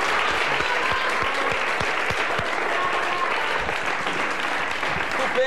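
A TV studio audience at a 1981 Italian interview with Miguel Bosè applauds steadily and densely, filling the whole stretch at an even, sustained level, with no voices cutting through the clapping.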